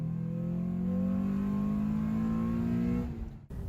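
Honda Civic EK1 engine hums steadily from inside the car while driving at night, a sustained low drone with slowly rising pitch that drops away abruptly near the end.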